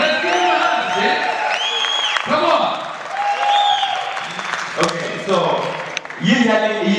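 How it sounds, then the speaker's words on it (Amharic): An audience claps warmly in a hall for the Nexo brand, the applause running under someone speaking. "ለኔክሶ ያኔ ሞቅ ያለ ጭብጨባ"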